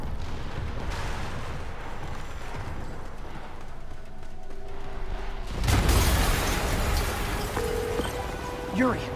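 A large explosion in the video game Marvel's Spider-Man Remastered erupts as a sudden loud broadband boom after a stretch of game noise, rumbling on briefly, with a voice speaking around it.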